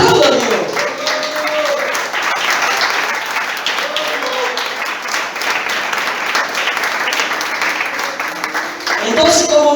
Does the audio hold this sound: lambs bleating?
no